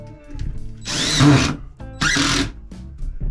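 Two bursts of a power drill whirring as it drives screws into pilot holes, each about half a second to a second long, loud and close, with short pauses between them.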